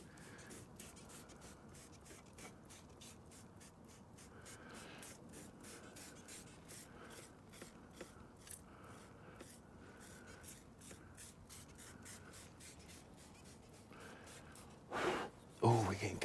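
A long sprayer applies Lanoguard underbody protection beneath a Subaru Forester STI SG9, giving faint, rapid repeated hissing pulses throughout, with louder, harsher bursts near the end.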